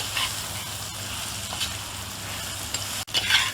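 Raw plantain pieces being stirred in a frying pan for a Nagercoil-style poriyal, with a steady sizzle under scraping stir strokes and a louder clatter near the end.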